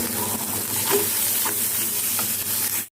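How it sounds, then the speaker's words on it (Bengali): Boiled potatoes fry in hot oil in a pan, a steady close sizzle broken by a few scraping stirs, with no voices. "তারপর এখন তেলে বসিয়ে দেবো"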